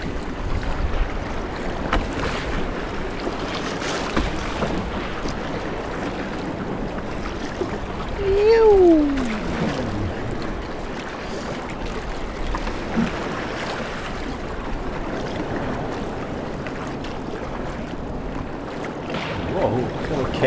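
Wind gusts and choppy waves slap around a solo kayak on Lake Superior near a wild shoreline, a constant close wash of water and air with a brief vocal sound midway.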